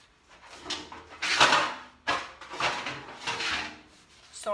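Hands rub and scrub hard against a wooden headboard in several uneven strokes, a dry rasping friction sound that swells and fades close by.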